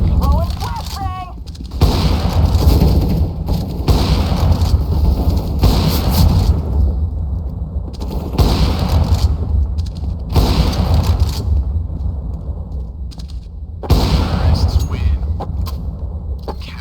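Counter-Strike gunfire and grenade blasts, with loud close booming shots in repeated bursts separated by short gaps, and game voice lines and talk over them.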